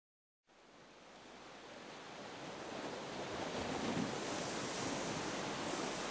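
Sea waves wash onto the shore near the Nuraghe Losa area in Sardinia, a broad, steady surf hiss rising after a short silent start and holding loud and continuous, mixed with wind noise on the microphone.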